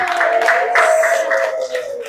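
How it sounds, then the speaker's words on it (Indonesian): Applause from a classroom audience, steady and fairly loud, with a sustained tone running underneath the clapping. "tepuk tangan untuk"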